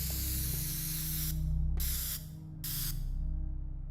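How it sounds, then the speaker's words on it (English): A spray can in the video game Teardown gives three short, hissing bursts, each about half a second, over a steady low background hum. "Spray can."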